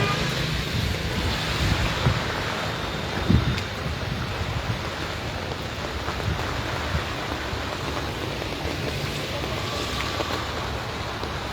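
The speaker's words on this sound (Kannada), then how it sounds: "ಗಾಳಿ ಮತ್ತು ಮಳೆ ಬರ್ತಿರೋದ್ರಿಂದ" Wind and rain outdoors: a dense, continuous roar of wind buffeting and steady rainfall that holds at an even, loud level throughout, with occasional gusts and thumps.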